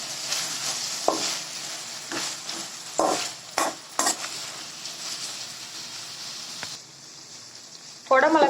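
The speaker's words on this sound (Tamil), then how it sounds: "இப்போ குடமிளகாயும் சேர்த்துக்கோங்க. இதே நல்லா வதக்கிக்கோங்க." Capsicum sautéing with onion and ginger garlic paste for chilli parotta, a soft sizzle in the pan broken by several scraping stirs of a spoon, ending in a sharper burst of frying.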